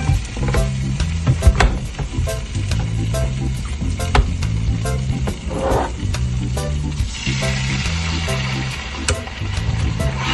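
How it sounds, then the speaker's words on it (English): Jerk coconut curry chicken sizzles steadily in a hot pan as coconut milk is poured in. A loud, even frying hiss runs throughout, with occasional clinks and stirring sounds and no talking. "I'm gonna go ahead and add another half cup of coconut milk."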